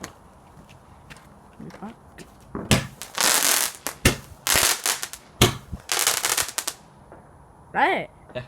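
Bonfire night fireworks going off outdoors: a run of loud crackling, popping bursts in quick succession, with rustling crackle between blasts and a rising whistle near the end.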